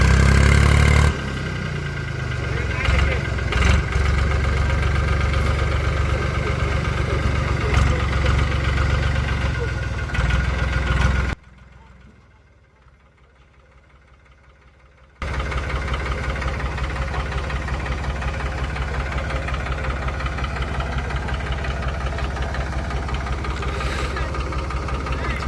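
A tractor stuck in mud runs with a loud, steady, close engine drone that cuts out briefly partway through, then returns at full strength.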